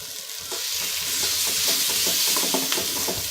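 Ground spices and garam masala sizzle in hot oil for a groundnut vegetable gravy, with a spoon stirring and scraping the pan steadily, loud and close, with no voices.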